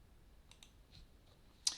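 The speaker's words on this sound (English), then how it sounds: "click on that" A few faint computer mouse clicks on a Windows PC, quiet isolated ticks ending in one sharper, louder click.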